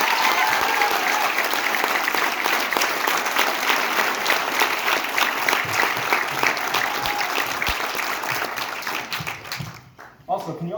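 Sustained applause and clapping from an audience at a 2020 homeschool graduation ceremony fills the space loudly, tapering off near the end with a voice coming through.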